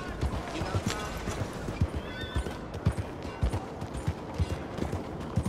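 An Arabian horse in Red Dead Redemption 2 clops in a steady hoof rhythm with a whinny in the middle, while someone talks over the sounds.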